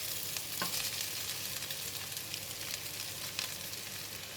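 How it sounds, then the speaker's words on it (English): Bean sprouts hit a pan of frying mee goreng noodles with tofu, and a steady close sizzle follows with a few faint stirring knocks and no speech. "I'm going to put in the bean sprout"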